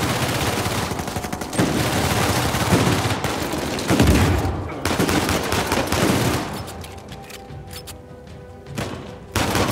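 Rapid bursts of gunfire and heavy shots crackle almost continuously in an Uncharted 4 firefight on PS4, loud and close, thinning into scattered single shots near the end.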